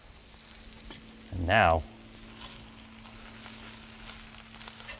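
Breakfast burrito filling with melting pepper jack cheese hisses faintly and steadily on a hot grill, while someone speaks briefly over it.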